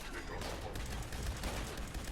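Rapid continuous fire from a Gatling laser in Fallout 76, a dense, steady buzzing barrage of shots running unbroken at close range with no talk.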